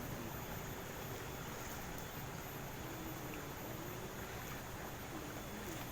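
Water rushing steadily through a centuries-old Dutch colonial irrigation canal fed by the Progo River, a continuous, even broadband flow with no voices.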